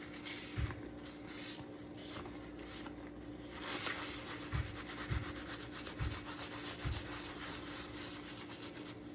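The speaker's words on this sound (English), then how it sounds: "now we're just gonna clean off the excess before it dries" Excess grout being wiped off a paw print mosaic, a soft, steady rubbing and scrubbing close by, faint and continuous with a few light knocks, with no voices.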